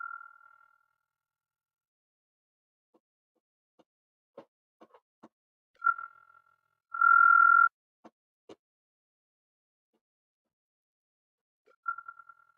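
A telephone line sounds a steady tone, then a run of short dialing beeps and a longer loud buzzing signal before the tone returns, clear and isolated with no talk.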